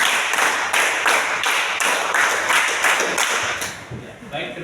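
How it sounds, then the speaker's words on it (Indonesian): A group claps together in quick rhythmic bursts of sharp, even claps. The claps are loud and close and continue steadily with speech in the background. "Mari kita tepuk satu dulu."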